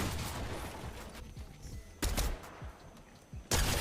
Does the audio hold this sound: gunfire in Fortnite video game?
yes